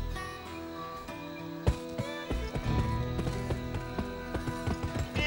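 Hoofbeats from a horse galloping and jumping in the western video game GUN, a rhythmic clip-clop run with sharp thuds and accents over a low game soundtrack.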